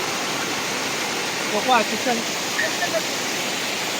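A fast-flowing stream near Vaigaon in the Wai area of Satara, with steady broadband rushing water filling the whole stretch, close and loud, with a few faint higher chirps or voices on top.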